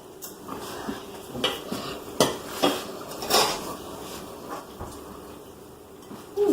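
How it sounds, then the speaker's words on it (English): Cookie dough with walnuts and chocolate is mixed in a bowl, giving irregular clinks and scrapes of a utensil against the dish over a quiet background. "We gotta mix this in really good because you don't want the flour showing."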